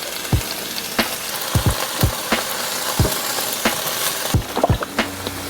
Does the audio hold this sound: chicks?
no